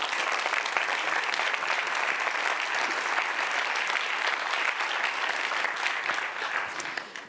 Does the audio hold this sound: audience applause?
yes